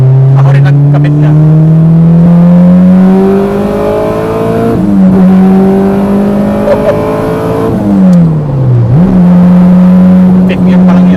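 Honda Integra VTEC engine pulling hard in fifth gear, a loud sustained rising drone heard from inside the car, with a brief pitch dip near the end before it climbs again; people talk over it.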